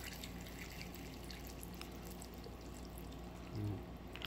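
Water pours into a mug while pig's feet are being cooked, a soft steady stream at low level over faint background hiss, with no talk.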